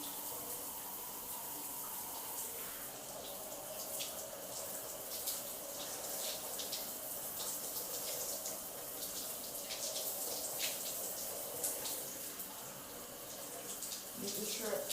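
Tap water runs steadily to wet hair, a soft, continuous hiss and splash with occasional brighter splatters, fairly quiet and close, lasting throughout.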